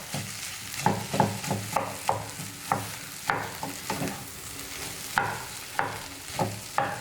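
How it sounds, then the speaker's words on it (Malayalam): Tapioca and masala being mixed with two ladles, the ladles knocking and scraping in a steady rhythm of about a dozen close strokes over a soft background sizzle. "അപ്പോൾ മിക്സ് ചെയ്ത് കൊടുക്കുമ്പോൾ ഞാൻ 2 തവി ഉപയോഗിക്കുന്നുണ്ട്."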